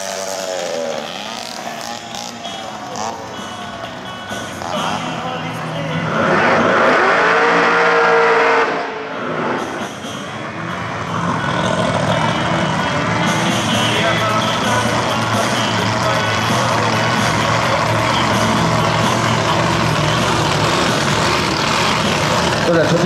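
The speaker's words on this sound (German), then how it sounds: "1934er Willys Woody Wagon. Die Leistung gibt er an mit ca. 865 PS." A 1934 Willys Woody Wagon drag racing car with a 6.4-litre engine and about 865 hp at a drag race in Geiselwind, its loud engine roaring and revving steadily for over twenty seconds while someone talks over it.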